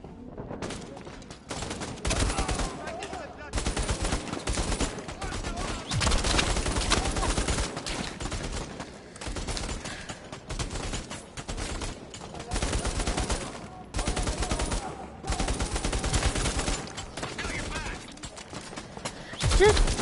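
Rapid bursts of gunshots in a VR shooting game, loud clustered volleys separated by short pauses, with someone speaking between them.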